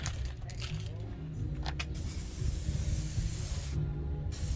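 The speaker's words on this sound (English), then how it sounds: "Pontiac man is getting ready to spray this one" A spray gun painting a Cutlass G-body door panel, a steady close hiss of atomized paint with brief interruptions and a low background hum.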